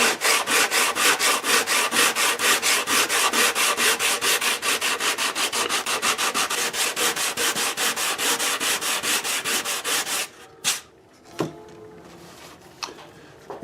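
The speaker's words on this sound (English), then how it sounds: "I have to sand it to get it flush to the top." Rapid back-and-forth hand sanding of abalone shell purfling set flush into a spruce guitar soundboard, a steady rhythmic rasp of even strokes for about ten seconds, then a few scattered knocks and rubs.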